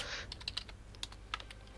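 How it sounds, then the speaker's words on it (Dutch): Typing on a computer keyboard during a Heroes of the Storm game session: a quick burst of clicks, then scattered, irregular keystrokes, close and crisp with no talking. "ik wou even typen"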